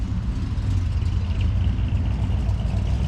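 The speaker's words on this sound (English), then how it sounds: "you're going to see a couple cars passing me right now. It's just a Camaro, but then there's this cool old truck" Cars pass along a park road, a Camaro and an old truck among them, giving a steady low engine rumble and road noise that stays fairly loud and continuous throughout.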